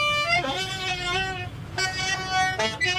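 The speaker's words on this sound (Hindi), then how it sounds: "भोंपू ही बजा रहा है" A toy horn blown in short honking bursts, several separate toots with pauses between them, loud and close over a low background murmur.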